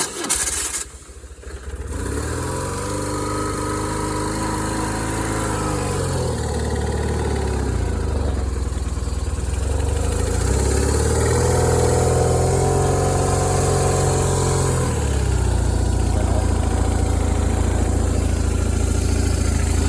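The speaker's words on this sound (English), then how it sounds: "Okay, so I just started the bike." A 2002 BMW R1150 RT motorcycle engine starts and then idles, a steady low throbbing rumble that rises briefly before settling, close by and alone.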